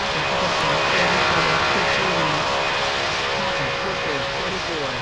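An airplane lands on a runway in the video game World of Airports, with a loud, steady engine drone and a whining tonal hum throughout, close and continuous.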